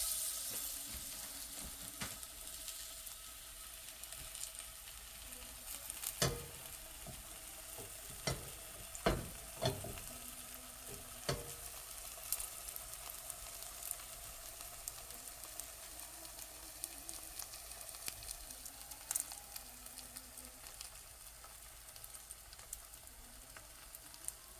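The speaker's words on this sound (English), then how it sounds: "So I'm gonna put this porgy on the frying pan." A porgy fish is searing in hot oil in a cast iron skillet, giving a soft, continuous sizzle with occasional louder pops and spatters throughout.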